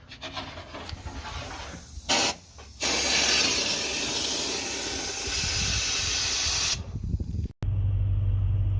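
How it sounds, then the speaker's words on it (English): An aerosol can of rust inhibitor sprays in long hissing bursts under a 1990 Ford F250 460, close and loud, with short breaks between them and a faint rumble in the background. "I don't have any fluid film on there, so gonna go ahead and spray all these areas"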